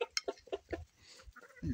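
A rooster and hens on an Appalachian homestead give a quick run of close clucks and squawks, then go quiet, ending in a brief low rustle.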